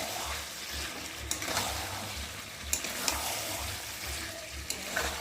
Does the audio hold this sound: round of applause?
no